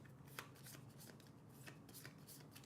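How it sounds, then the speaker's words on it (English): Playing cards are riffled and shuffled during a Sniper Elite tabletop board game, giving a quiet, steady papery flutter with small snaps, heard alone and close for a few seconds. "I'm going to take that and shuffle them back in."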